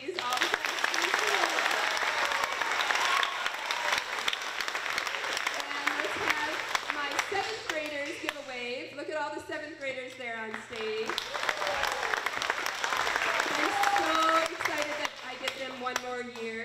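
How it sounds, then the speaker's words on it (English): Sustained applause and clapping from an audience at a school event, steady throughout with a voice talking over it. "Once again, Mr. Witty, all the claps, please."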